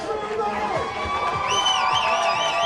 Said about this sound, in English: Crowd riled up as Lions steps to the plate.